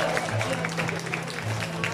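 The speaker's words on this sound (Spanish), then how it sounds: "Ahí donde está ese aplauso bien fuerte y bien bonito para nuestra homenajeada." Applause for the honoree at a quinceañera celebration with a mariachi band, a steady crowd clapping that sounds fairly loud and continuous, with a low hum running under it.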